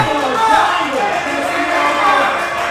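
Crowd at a submission-only grappling event cheers and murmurs steadily throughout, a dense, loud wash of voices with a commentator talking over it.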